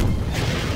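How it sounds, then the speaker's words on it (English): Fireworks go off in a video game as a brief celebratory burst: a loud, dense rumble of booms and crackle with no voices. "Victory fireworks!"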